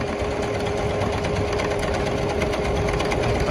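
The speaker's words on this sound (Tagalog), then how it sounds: "Very easy to use lang po gamitin ito pong sewing machine po natin." A Jaguar CD-2205MP sewing machine stitches with a steady, close, rapid mechanical whir and ticking that runs evenly and unbroken throughout.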